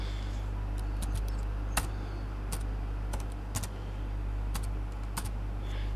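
Keys clicking on a computer keyboard during a language-lesson demo, scattered sharp taps at irregular intervals over a steady low hum.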